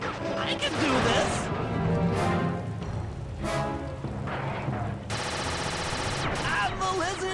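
Gunfire in the Sly 2 video game as a blimp turret comes under attack: rapid machine-gun bursts and crashing impacts mixed with other game effects, loud and close, with gaps between volleys.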